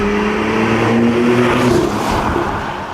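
A Porsche 911 engine pulls hard under acceleration with Sport Response engaged, a loud close drone with rising harmonic tones that fade slightly toward the end, with no speech.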